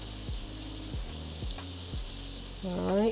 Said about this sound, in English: now we're just going to let this simmer